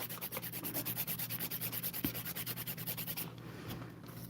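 A nail file rasps back and forth across acrylic nails in quick, even rhythmic strokes, close and moderately quiet, then stops near the end, with no talking.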